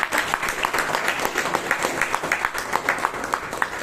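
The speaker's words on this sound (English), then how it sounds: "Big round of applause." Audience at a Toastmasters club meeting in a hall breaks into a steady round of clapping, dense and even throughout, with no voices standing out.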